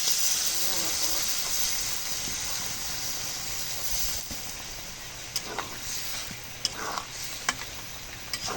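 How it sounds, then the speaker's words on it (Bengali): Water poured into a hot pan of goat tripe and potato curry sets off a loud sizzling hiss that slowly settles, followed by a few clinks and light knocks. "এখন জলের পানি দিয়ে দিই"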